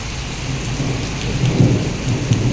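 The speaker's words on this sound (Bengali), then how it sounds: "এরকম বৃষ্টি বাংলাদেশে হয় আজকে রিয়াদে দেখতেছে অনেক বছর পরে বৃষ্টি হইতেছে" Heavy rain pours steadily in Riyadh, with low rumbles of thunder rolling through the downpour; a continuous, fairly loud wash of rainfall with no voices.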